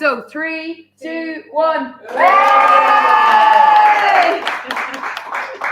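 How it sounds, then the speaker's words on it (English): A school audience at a student enterprise county final erupts in loud cheering, whooping and clapping right after a short spoken countdown, the roar sustained for several seconds before fading slightly. "Oh, we still need to cheer higher, guys."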